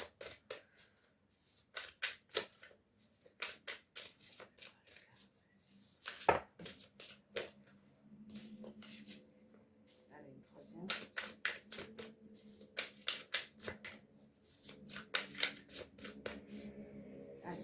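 Tarot cards shuffled and drawn: repeated quick riffling and flicking bursts of card stock, close and crisp, in clusters with pauses, while a voice speaks softly now and then.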